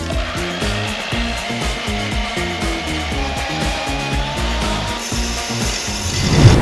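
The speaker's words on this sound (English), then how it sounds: "So we're gonna cut this off here, pretty much at where the weld is now" A power saw cuts through the steel exhaust pipe of a BMW E36 M3 near a weld, a loud, steady rasping and grinding with rapid rhythmic strokes that carries on throughout with no talking.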